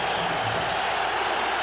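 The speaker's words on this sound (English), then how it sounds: "The crowd is heard." Stadium crowd at a 2001 NFL football game between the St. Louis Rams and New York Jets, a dense, steady roar of many voices filling the air, loud and continuous.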